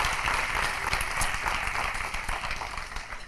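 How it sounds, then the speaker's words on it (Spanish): An audience breaks into steady, moderately loud applause at a church music gathering, with dense clapping filling the whole moment. "Así que yo os agradecería pudiéramos darles un aplauso."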